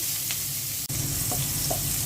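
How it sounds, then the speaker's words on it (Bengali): Onions go into hot oil that was just used to fry fish, giving a steady, close hiss of sizzling with a few faint stirring clicks, and no voices. "মাছ ভাজা তেলের মধ্যে পেঁয়াজ দিয়ে দিচ্ছি।"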